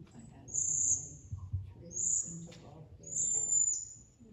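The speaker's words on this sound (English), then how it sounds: "if you're walking around and you hear this high-pitched buzz, it's the cedar waxwings" Cedar waxwings giving three thin, high-pitched buzzing calls, each about half a second long and evenly spaced, faint and a little distant over low background rumble.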